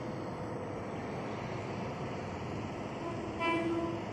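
Rumble of a passing train at a busy commuter station in Depok, Indonesia, then a short, loud horn blast sounds near the end over the steady background noise.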